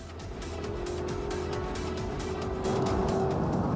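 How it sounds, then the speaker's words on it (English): A powerful 520-horsepower car accelerates at full throttle on an unrestricted stretch of German Autobahn, its engine roaring steadily and rising in pitch under loud road and wind noise, with no talking. "puts his foot to the floor on the Autobahn"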